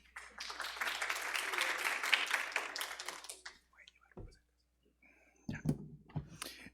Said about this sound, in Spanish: Un aplauso para Giancarlos.